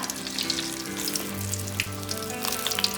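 Snacks for an Ifthar meal frying in hot oil, a steady close sizzle with scattered crackles and pops, heard alone.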